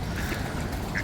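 Little ducks quack in a park setting at Baddesley Clinton estate, a short, soft call standing out over steady outdoor background noise.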